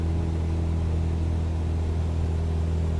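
A Cessna 172 aircraft engine drones at a steady, loud level as the throttle is increased, with a constant low tonal hum and no speech.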